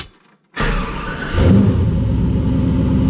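A 1966 Buick Skylark V8 fitted with a Terminator fuel-injection system cranks briefly after a short silence, catches and settles into a loud, steady, rumbling idle close by.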